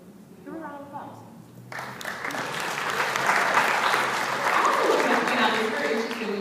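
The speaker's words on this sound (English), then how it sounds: "Give a round of applause." An audience at a university diversity presentation breaks into applause after a voice speaks, the clapping swelling from moderate to full and continuing steadily, with some voices mixed in.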